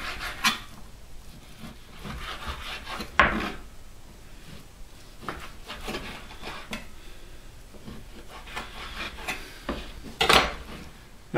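A knife cuts beef strips into chunks on a cutting board for homemade beef stew. It gives a few sharp knocks against the board with soft scraping and rubbing in between, close and fairly quiet, with no talking.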